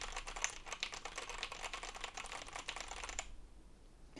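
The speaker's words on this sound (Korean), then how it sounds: "기계식 키보드입니다" Typing on a mechanical keyboard with Cherry black switches, a dense run of close clacking keystrokes for about three seconds before it stops abruptly into near silence.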